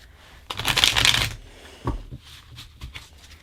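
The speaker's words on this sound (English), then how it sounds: "I know I'm like shuffling the deck too intensely" A deck of tarot cards is shuffled vigorously, a loud riffling burst followed by several softer taps and card slaps close by.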